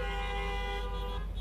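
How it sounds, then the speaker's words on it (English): Several car horns honk together at a drive-in concert, a sustained blaring chorus of overlapping tones that holds steady and loud throughout. "honk if you are happy that we're together"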